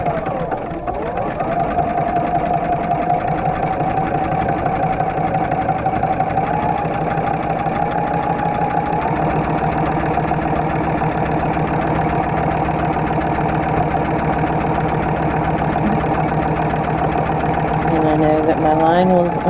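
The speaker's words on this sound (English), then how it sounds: "as I stitch my next line, I'm going to follow that guide right along where I already stitched" A sewing machine with a walking foot stitches a quilt in one long, steady, close run of rapid needle chatter, with a voice talking over it.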